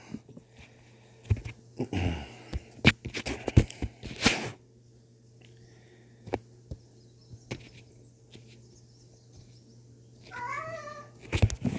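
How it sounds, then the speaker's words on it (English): A house cat meows near the end, a short rising call after scattered clicks, taps and handling noises, with no talk. "Cat."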